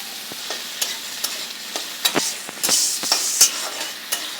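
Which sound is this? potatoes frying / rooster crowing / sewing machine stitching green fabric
potatoes frying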